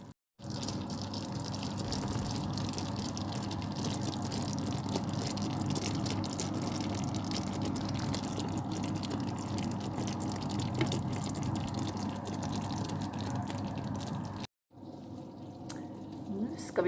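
Cold water runs from a kitchen tap in a steady, even hiss and rush that continues for many seconds, briefly cuts off, then starts again.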